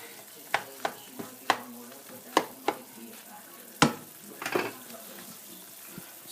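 Meat simmers and fries in a pan until it renders its own fat for a Filipino sauté, a soft bubbling sizzle broken by sharp utensil clacks and scrapes at irregular intervals, close by and without talk.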